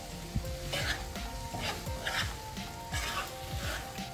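Yogurt stirred into sizzling biryani masala in a pan: close, rhythmic scraping strokes over a steady frying hiss, no voices.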